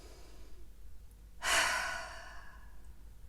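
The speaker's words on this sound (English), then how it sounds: "Take a deep inhale through your nose and exhale through your mouth." A single deep breath during a gentle seated yoga session, a soft quiet lead-in followed by an airy exhale that rises suddenly and trails off over about two seconds, close and alone.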